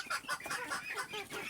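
A young desi hen chick held in the hand gives a quick run of close, repeated clucking calls, each short and bright, with no talk.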